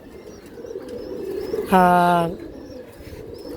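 Pigeons being hand-fed in the afternoon give a loud, close coo lasting about half a second amid softer background cooing and chirps. A person speaks briefly.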